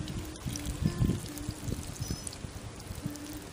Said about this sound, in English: when you water it, do not pour the water directly on the plant.